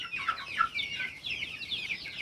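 Chickens clucking nearby in a backyard coop with two large hens, a steady run of short high clucks and squawks with no talking.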